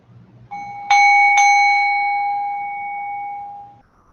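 A meditation bell rings at the start of a short open meditation session. It sounds with two bright metallic strikes in quick succession, then a long, clear tone that decays slowly over several seconds in a quiet room.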